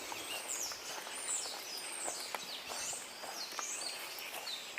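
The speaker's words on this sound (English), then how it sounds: "We're hearing red-winged blackbirds" Red-winged blackbirds sing outdoors, faint and distant, with repeated sweeping calls over a soft background hiss.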